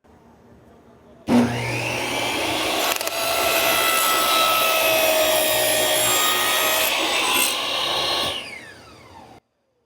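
A saw rips through wood as the workpiece is fed with a gripper push block, a steady loud cutting roar lasting about seven seconds after a sharp start, then winding down, with no talking.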